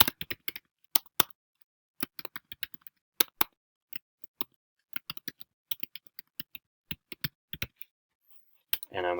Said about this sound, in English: So I will type those in.